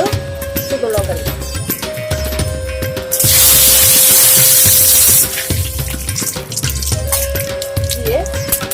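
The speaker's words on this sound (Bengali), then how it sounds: "তেলটা আমার গরম হয়ে গেছে, এবার তেজপাতা ফোড়ন হিসেবে দিলাম, হাতে দুটো শুকনো লঙ্কা দিলাম" Bay leaf and dried red chillies hit hot oil for tempering, bursting into a loud hissing sizzle for about two seconds mid-clip, with a person talking before and after.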